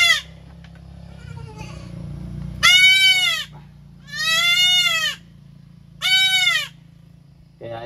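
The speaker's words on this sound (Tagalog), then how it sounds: "Ito po ang medyo maliit natin na kambing na paanak ngayon." A small goat on a farm gives several loud, close, wavering bleats, three long calls with pauses between them, over a low steady background hum.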